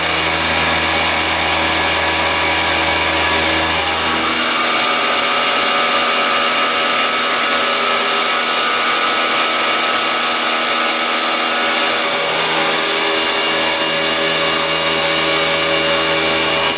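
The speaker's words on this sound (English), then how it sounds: "This is a 3/8" end mill. We're going down about 3/4 inch, 30 inches a minute." A PM727MXL milling machine runs a 3/8-inch end mill through a side-clearing cut about 3/4 inch deep at 30 inches a minute, producing a loud, continuous, even whine and grinding hum that stays constant throughout.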